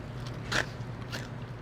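A bite into a piping-hot piece of crispy fried chicken for General Tso's or orange chicken gives a short, crunchy crack, followed by a second, softer crunch about half a second later. It sounds close and fairly quiet.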